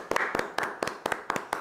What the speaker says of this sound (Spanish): Aplauso para Isabela